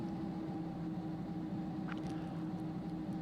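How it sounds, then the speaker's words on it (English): A Sky Simulations MD-11 engine spooling up in a P3D v4 flight simulator, a steady, even droning hum with a faint high whine building partway through, heard alone with no talking. "it is a typical FSX-like engine start"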